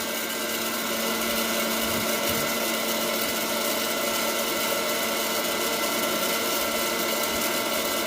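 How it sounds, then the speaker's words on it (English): An air popper whirs with a loud, constant hum from start to finish, with a few faint pops of popcorn under the steady motor drone. "I love my air popper"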